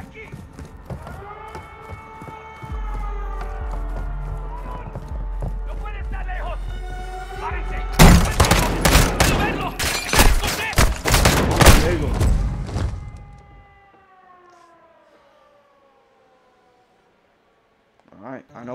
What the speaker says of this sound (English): That gunfire alerted them.